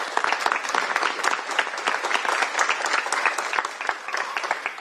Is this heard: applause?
yes